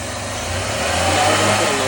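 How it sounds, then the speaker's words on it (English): A car engine runs steadily with a rising rev partway through, a close, continuous mid-pitched drone from a battery and starter amperage test under load, with no talking. "we're gonna start it and rev it up a little bit"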